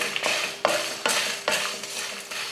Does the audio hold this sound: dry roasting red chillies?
yes